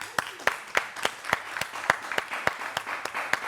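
An audience applauds in a steady run of sharp, evenly spaced claps, moderately loud and close, with no one speaking.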